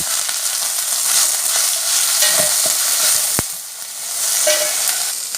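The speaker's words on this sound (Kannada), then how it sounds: "ಈಗ ಇದಕ್ಕೆ ನುಗ್ಗೆ ಸೊಪ್ಪು ಹಾಕುವ ಫ್ರೈ ಮಾಡಲಿಕ್ಕೆ." Moringa (drumstick) leaves are stir-fried in a pan, giving a steady loud sizzle with occasional scraping clinks from a spoon stirring through them.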